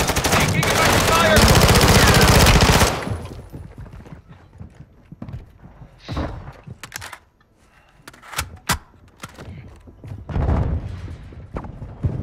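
Gunfire in Call of Duty Warzone comes as a loud, dense burst of rapid automatic shots at the start. Scattered sharper shots and in-game sounds follow at a lower level.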